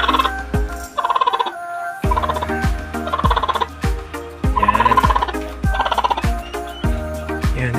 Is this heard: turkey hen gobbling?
yes